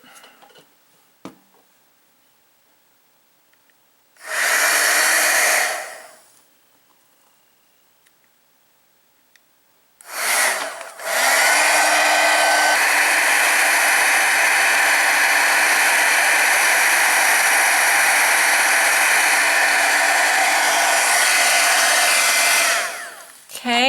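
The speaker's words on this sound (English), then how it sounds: "I will take my heat gun and we will heat this up" Heat gun blowing hot air onto FIMO gel coating doll wing wire, a loud steady whoosh in one short burst, then a long continuous run.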